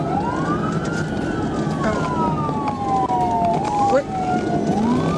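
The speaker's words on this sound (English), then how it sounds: "When emergency lights and siren were activated, the driver failed to stop" A police car siren wails in sweeping tones through a pursuit, loud and steady over road noise, with a brief voice heard partway through.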